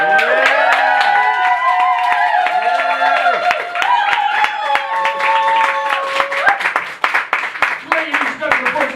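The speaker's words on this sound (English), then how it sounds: "another massive round of applause, please" Applause and cheering from a comedy-night audience at a punk-themed club's second birthday show, with steady clapping throughout and a voice carrying over it.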